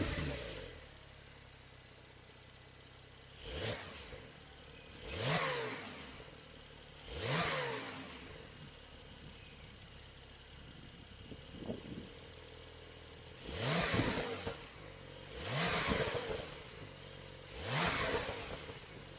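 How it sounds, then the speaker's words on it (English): A base Porsche Carrera with the standard exhaust system revs outdoors, caught by a microphone set outside. Six sharp rev bursts rise and fall in separate pairs and triplets, each with an audible pitch sweep, separated by quieter idle. "Start off with the base Carrera with the standard exhaust system."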